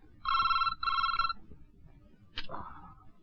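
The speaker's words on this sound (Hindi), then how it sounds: "इतनी रात का ही किसका फोन है?" A telephone rings twice in a quick electronic double trill, fairly quiet, followed by a brief chirp and soft room noise.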